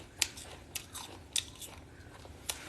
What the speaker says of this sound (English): We love the chewing.